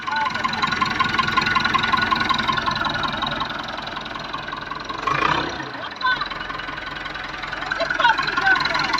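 A tractor engine runs steadily at idle while a driver learns to work the pedals, with a brief rev near the middle. People talk over the engine throughout.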